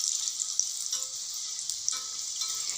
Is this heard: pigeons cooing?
no